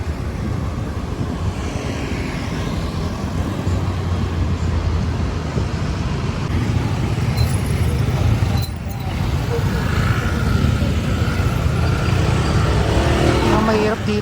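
Dense road traffic in Metro Manila, around Pateros and north Taguig: a steady, close wash of car and engine noise rolling on without a break, with a short dip partway through and no clear voices.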